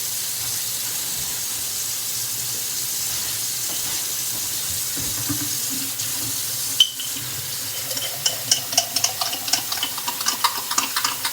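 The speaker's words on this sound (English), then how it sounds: "I'm going to add hot water to that." Hot water runs steadily from a kitchen tap onto beef base for a soup, a continuous broad rush that shifts in tone as the container fills, with light clinks and splashes near the end.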